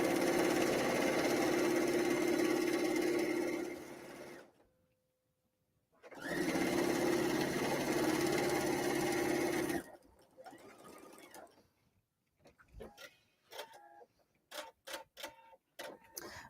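A sewing machine stitches a paper-pieced kimono tea cozy in two steady, continuous runs separated by a brief pause, then gives way to quieter clicks and small handling noises.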